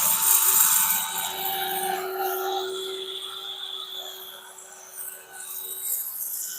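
A woodturning lathe spins an oak burl bowl at rising speed, a thin steady high whine with faint scraping texture, close and moderately loud, no talk.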